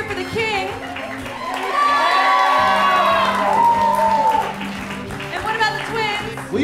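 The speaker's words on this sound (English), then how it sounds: "Let's give a cheer for the king." A game show studio crowd cheers for a contestant crowned king, rising into loud whoops and shouting voices that hold for a few seconds and then trail off into scattered calls.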